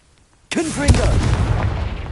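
A Confringo fire blast spell bursts in Hogwarts Legacy with a sudden loud boom out of near silence, then a rolling, crackling roar that lingers, while a voice calls out over the blast.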